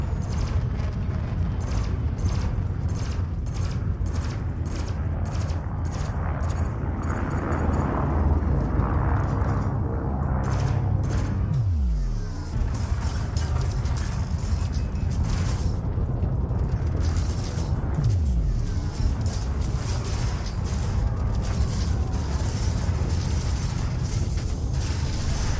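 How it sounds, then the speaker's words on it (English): A ship's cannon firing in the Elite Dangerous space game, from the cockpit of an Asp, as a rapid run of sharp repeated bursts over a dense mechanical hum, with a couple of descending whooshing sweeps along the way. "I'm not really getting used to this cannon."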